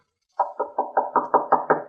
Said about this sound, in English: They wouldn't knock.